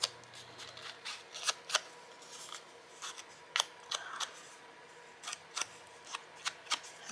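Scissors snip through paper in short, sharp cuts, close and fairly quiet, coming in irregular clusters with brief pauses between them.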